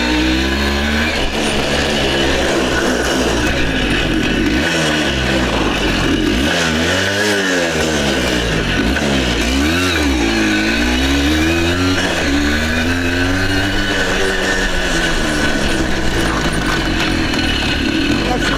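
Voskhod 3M01 and ZID Kurier motorcycles riding uphill on muddy ground, two-stroke engines revving hard and close with rising and falling pitch throughout, loud and continuous, with a voice shouting over them.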